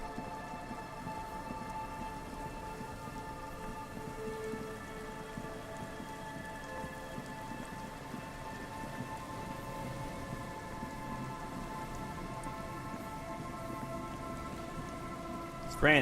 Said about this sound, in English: It's raining, so I might have a buff.